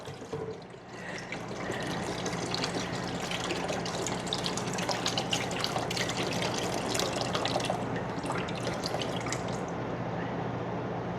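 Store-bought Campbell's chicken broth, not concentrate, poured from its carton into a warming pot on the stove, a steady liquid trickle and splash running close and continuous for about ten seconds with no talking.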